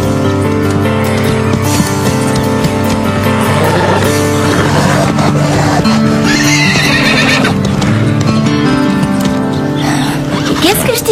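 A horse balking in front of a wall jump, neighing loudly among hoofbeats in a busy, music-backed scene with other layered sounds throughout.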